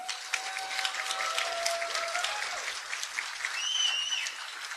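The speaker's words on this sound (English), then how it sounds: "You can clap for him." Sustained audience applause at the CircleCityCon closing ceremony for the CTF organizer, a steady wash of many hands clapping for several seconds, with faint voices and a few whistles rising from the crowd.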